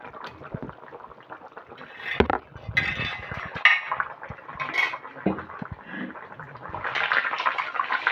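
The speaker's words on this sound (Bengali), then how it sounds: "এবারে আমি মাছগুলো দেব।" Pieces of katla fish go into a simmering cauliflower, eggplant and tomato curry in a pot. Metal utensils clink and scrape, with soft splashes of sauce, in a close and uneven stream of kitchen clatter.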